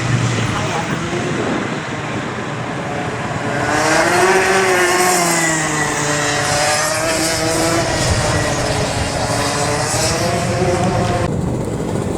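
A racing motorcycle sweeps through the S-bends at an MSP race day at Suvarnabhumi, its engine note rising and falling in pitch as it passes at mid distance, a sustained loud drone under a voice talking.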